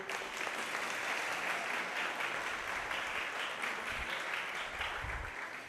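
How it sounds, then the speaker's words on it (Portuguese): Sustained applause from a church congregation, a dense steady wash of clapping lasting throughout, heard from some distance. "Dá um aplauso a Jesus"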